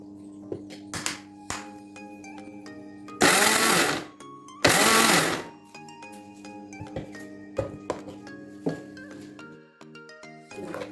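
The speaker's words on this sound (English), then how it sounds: "Transfer to a mixie jar and grind it coarse." A mixer grinder coarsely chops pizza sauce ingredients in a mixie jar, running in two short, loud whirring pulses of about a second each, with light clinks and taps of the jar and utensils before and after.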